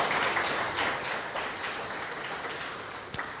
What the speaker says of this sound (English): A round of applause once again for Mr.